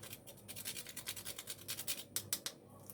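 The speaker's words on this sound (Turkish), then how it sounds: "Mutlaka bu işlemi patatesler sıcakken yapın. Güzelce ezelim." Hot potatoes with margarine and milk are mashed by hand, giving quick rhythmic scraping and squishing strokes, close and fairly quiet, with a few sharper scrapes near the end.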